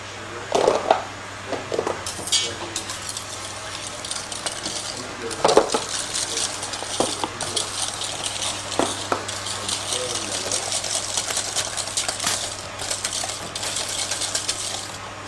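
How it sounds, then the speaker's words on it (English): Egg yolks and sugar whisked together in a bowl for a crepe cake in a professional kitchen, a steady stream of fast, light scraping clicks at close range with a few louder knocks against the bowl. "Meanwhile, egg yolks and sugar are combined. They'll be whisked to a pale yellow."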